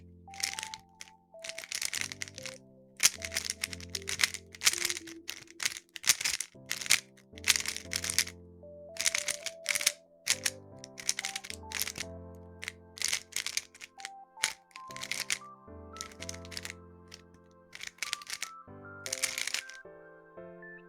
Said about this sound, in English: faster turning results in a slightly muted, clicky feel